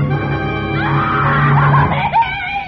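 In an old Suspense radio drama, a distraught woman lets out a loud, rising shriek over a steady low hum. The scream wavers and climbs in pitch before breaking off near the end.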